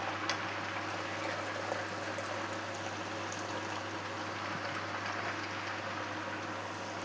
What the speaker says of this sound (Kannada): ಈ ಗುಳ್ಳೆ ಬರ್ತದಲ್ಲ, ಅದು ಪೂರ್ತಿಯಾಗಿ ನಿಲ್ಲುತ್ತೆ